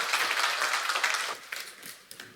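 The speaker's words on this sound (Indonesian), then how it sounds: "Beri tepuk tangan buat Allah kita bersama-sama" A church congregation at an IFGF Jogja Sunday service claps in a thick burst of applause that thins out quickly, leaving a few scattered claps by the end.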